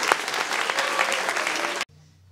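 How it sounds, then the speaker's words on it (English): A crowd at a school awards ceremony claps loudly and steadily for nearly two seconds. The applause then cuts off abruptly, leaving a faint low hum. "a round of applause for their hard work"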